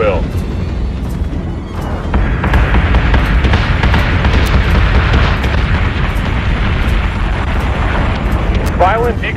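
Battlestar Galactica Deadlock space battle, with heavy battery cannon fire and rolling explosions booming in a dense, continuous barrage, sharp shot cracks repeating throughout and brief voice lines at the start and end.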